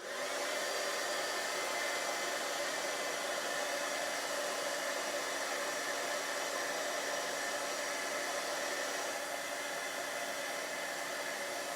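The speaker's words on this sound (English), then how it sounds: "bear with me a moment while we heat emboss this" A heat embossing tool blows a constant, close hot-air whir, melting white embossing powder on a craft card, steady and uninterrupted throughout.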